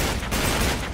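Dense, loud gunfire in Uncharted 3 fills a single second with a continuous roar of overlapping shots.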